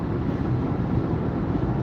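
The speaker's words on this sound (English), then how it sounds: "it's very windy out here" Steady wind rushing past a car on a busy street while driving, a continuous loud broadband roar with no pauses and no voices.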